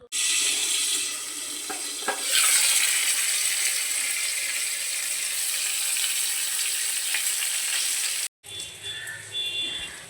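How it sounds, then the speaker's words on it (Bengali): Pointed gourd pieces frying with turmeric in oil in a covered pan, giving a loud, continuous close sizzle that runs steadily and then breaks off abruptly near the end, followed by quieter sounds. "আমি সবগুলো একসাথে দিয়ে ঢাকনা দিয়ে ভেজে নিচ্ছি"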